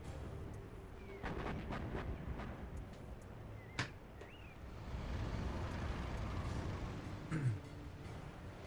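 Artillery fire in a match of the real-time strategy game Command & Conquer Generals, with a few distant booming shots over a steady low rumble of battle noise and vehicle sounds.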